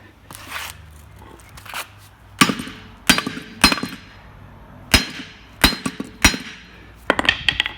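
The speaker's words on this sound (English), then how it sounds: "Now I've got to fit the bloody 15mm impact socket on the bolt, which is kind of swollen with rust. So I'm going to have to whack it on." Sharp metallic hammer blows drive a 15mm impact socket onto a rust-swollen bolt on an accident-damaged Ford Mondeo Mk3, about eight irregular clanking strikes close by, some in quick clusters.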